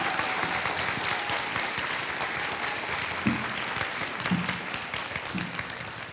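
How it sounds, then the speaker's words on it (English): A school audience applauds a student panel at a new-teacher gathering, steady dense clapping filling the room throughout with a few louder claps and brief murmurs rising near the end. "could you guys give this panel a round of applause?"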